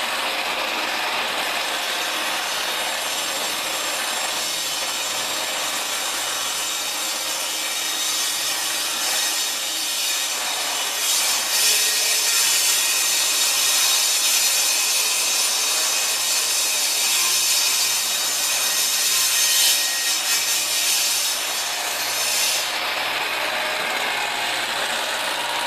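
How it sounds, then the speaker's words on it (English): Macassar ebony being ripped on a table saw for an acoustic guitar build, a continuous loud whining cut that holds steady and rises in intensity midway, with no talking. "after ripping it down with the table saw, that took a lot of the cup out"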